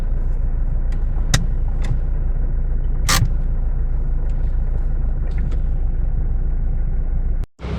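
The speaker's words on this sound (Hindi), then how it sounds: "फिर से गाड़ी को स्टार्ट करते हैं" A Toyota Fortuner's engine idles in a garage with a loud, steady low rumble and a few sharp knocks, then cuts out abruptly near the end.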